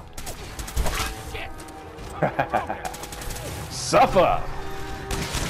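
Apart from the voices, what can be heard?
baseball gun firing in the video game Fallout 4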